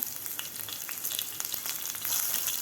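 Finely chopped green chili fries in hot oil with cumin seeds, giving a dense, continuous crackling sizzle with scattered sharp pops that swells slightly toward the end.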